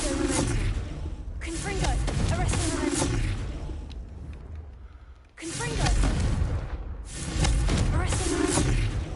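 Blasts from the Confringo fire spell in Hogwarts Legacy boom and thud in two bursts of repeated explosive hits, with a quieter gap between them and a voice talking over the action.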